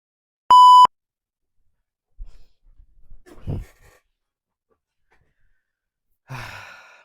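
A timer gives one loud, clear electronic beep as it finishes in a quiet room, followed by soft sighs and breathing, then a faint rustle.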